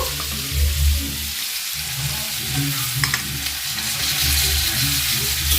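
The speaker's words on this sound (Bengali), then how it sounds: "এবারে আমি টমেটো দিয়ে দেব।" Tomato goes into potatoes already fried in a pan for a tangra fish curry, bringing a steady close sizzle with spatula stirring and low scraping thumps, no voices.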